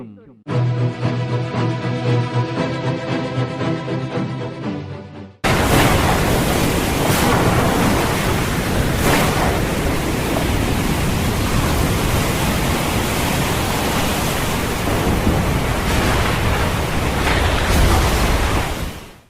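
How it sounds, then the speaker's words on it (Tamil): Roaring sea waves effect in a Christmas musical play: a sustained music chord gives way to a loud, broad, continuous surf roar with surging swells that runs steadily to the end. "கடல் பந்தளிக்கும்"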